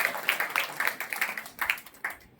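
A small audience claps in a quick, uneven patter of hand claps, fairly close and moderately soft, fading out at the end.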